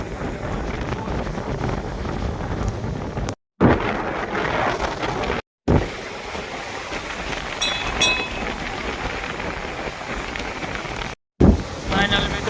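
Steady gusting wind at the seashore in Dwarka buffets the microphone outdoors with a broad roar, broken by a few brief dropouts; faint voices occasionally underneath.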